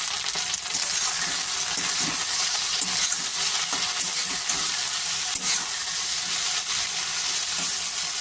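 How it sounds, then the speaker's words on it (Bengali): Okra seasoned with salt and turmeric fries lightly in hot oil. A loud, continuous sizzle runs throughout, with faint stirring and scraping sounds in the pan and no talking. "একটু হালকা ভেজে নিই।"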